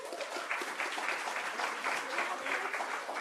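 Audience applause welcoming Supervisor Melgar at a funding panel event, a steady wash of many hands clapping at moderate distance with no pauses, filling the whole stretch.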